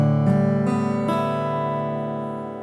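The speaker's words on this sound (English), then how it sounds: "put your guitar in the drop D tuning, so it should sound like this" A guitar in drop D tuning, strings strummed or plucked three times in slow succession, each note ringing out and decaying into a long sustain, close and alone.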